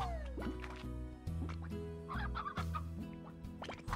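Cartoonish chicken clucks from the video game Slime Rancher, several short bursts and squawks close up over a steady game tone, with soft dripping bits and no talk.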